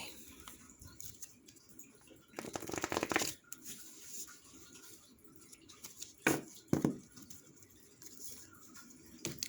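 A deck of tarot cards being shuffled by hand, with soft papery riffling bursts near the microphone, one long flurry and two shorter quick ones, in an otherwise quiet room.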